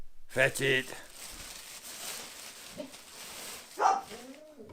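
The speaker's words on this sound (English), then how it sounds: "Sorry for the barking, boys." An older dog barks a few times close by outdoors, with short sharp barks near the start and again later, between which someone speaks to it.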